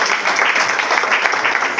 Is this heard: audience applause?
yes